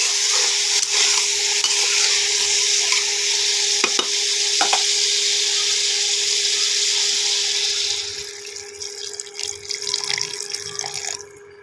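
Cauliflower and potato curry with green chilies hisses loudly in a pan as water goes in, with scraping stirs, then the sizzle drops to a quieter bubbling with clinks of the spoon.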